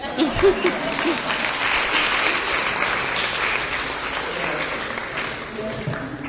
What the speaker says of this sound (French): Vous voyez que même les pancartes sont acclamées